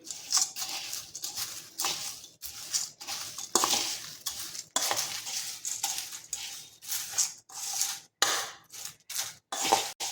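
A spoon stirs a thick poha chevda mixture of flattened rice and fried ingredients in a metal bowl, giving a series of quiet scraping, clinking strokes with short pauses between them, close up and alone.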